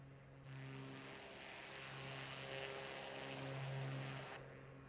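A Cessna 185 propeller plane drones steadily in a flight simulator game, a low continuous engine hum that swells slightly and then fades, moderately quiet with no talking.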